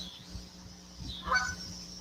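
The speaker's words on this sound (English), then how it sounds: "Goose, yeah, he's out there making noise somewhere." A single goose honks somewhere outdoors, a brief, moderately distant call rising out of a steady low background hum.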